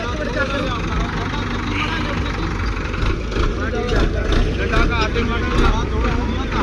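A Kartar 5936 tractor engine, fully warmed up, rumbles loudly and continuously nearby, a steady low drone with voices talking over it.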